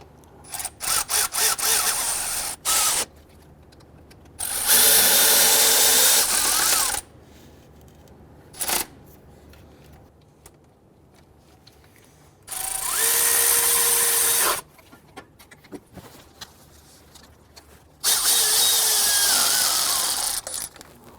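A power tool snugs down the AC compressor bolts on a 2006–2012 Toyota RAV4 3.5L V6 in loud whirring bursts, four main runs of about two seconds each with short blips between them, separated by quiet stretches.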